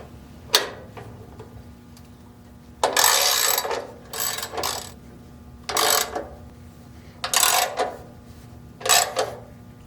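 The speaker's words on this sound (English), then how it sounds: "And finally torque them down with a 13mm socket wrench." A 13mm socket wrench tightens the bolts on a HappyJapan 7-needle and 12-needle embroidery machine stand, giving about six bursts of crisp, close ratcheting clicks separated by short pauses.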